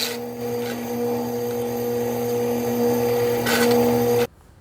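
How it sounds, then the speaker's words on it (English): Drill boring holes through a wooden cube to form a cage, a steady whirring tool hum with a couple of harsher bursts as the bit cuts through, close and continuous before stopping abruptly. "After I was done drilling out my cage"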